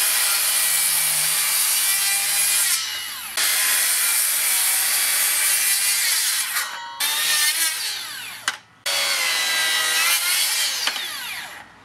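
Makita rear handle circular saws, 40V and 18V x2 models, cutting wood: a loud, harsh high blade roar through repeated passes, each cut broken by brief pauses as the blade spins down.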